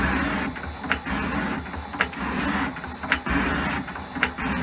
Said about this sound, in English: This machine's it's called a high-speed shaper. It's geared for aluminium and steel rather than cast iron.